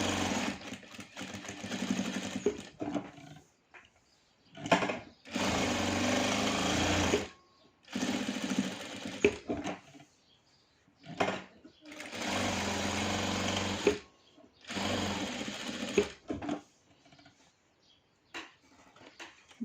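A sewing machine stitches patchwork fabric onto a lining in loud, close runs of rapid whirring, several bursts of a few seconds each separated by brief pauses, with a voice talking over parts of it.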